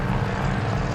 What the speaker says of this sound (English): 21 planes and 240 paratroopers take to the air.